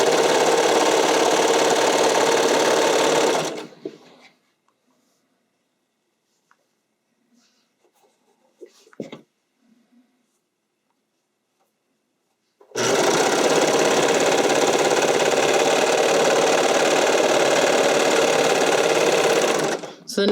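A sewing machine stitches lined, bonded bodysuit fabric front to back in two long, loud, steady runs, split by a quiet pause with faint handling noises.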